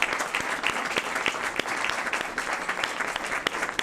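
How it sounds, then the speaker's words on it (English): Applause from the audience at a city council meeting: dense, steady clapping from many hands fills the whole stretch at a fairly close, even level, with no voices standing out. "Let's give them an applause."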